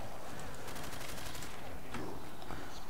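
A G36 assault rifle fires in the Call of Duty custom zombies gun game mode, a rapid automatic burst of loud shots crackling continuously and dense with game effects.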